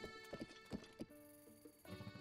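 Hoofbeats of the horse Eponot in Zelda: Breath of the Wild, a run of clip-clop steps with a short whinny breaking in near the middle, close and clear over a quiet game backdrop.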